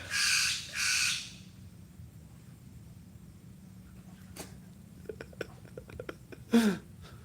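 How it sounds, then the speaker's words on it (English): Bird calling outdoors, two loud squawking caws at the start, then quieter scattered chirps and a final harsh squawk, over a low steady background hum with no talk. "I'm completely being upstaged by this bird here, aren't I?"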